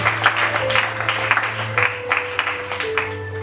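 Church congregation applauding during a thanksgiving and deaconess consecration service, a steady patter of clapping hands with soft sustained tones underneath, moderately close throughout.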